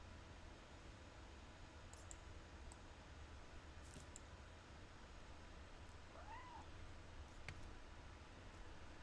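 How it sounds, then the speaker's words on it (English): A soft, distant cat meow rises and falls once amid steady hiss and faint ticks inside a house in the video game What Remains of Edith Finch. "No way, I just heard a cat."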